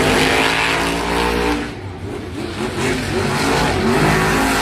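Monster trucks racing at Monster Jam Salinas, engines roaring loud and continuous with revving swells, a brief dip in the middle before the racket builds again.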